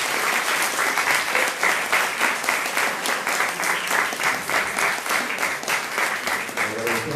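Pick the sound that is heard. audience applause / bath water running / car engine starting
audience applause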